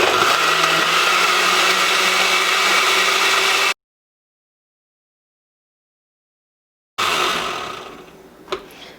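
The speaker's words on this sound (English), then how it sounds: "mix it, blend it." A blender whirs loudly and steadily blending cooked tomato soup, cuts out to silence for a few seconds, then runs again and winds down.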